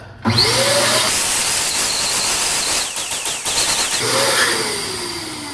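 An electric balloon pump blows up a latex balloon for a Halloween balloon garland, a steady loud whirring hum that runs almost the whole time with a short stuttering dip near the middle.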